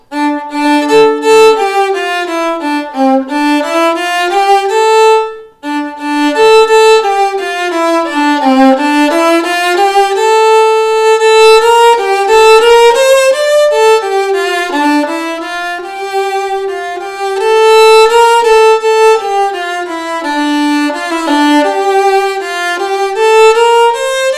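A solo violin plays the carol God Rest Ye Merry Gentlemen, notes rising and falling smoothly with a brief pause midway, loud and close with no talking.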